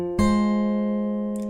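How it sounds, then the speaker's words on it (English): A single fingerpicked chord on acoustic guitar, a song's picking pattern, plucked once and left ringing clearly in the near field as it slowly decays. "So one picking pattern will sound like this."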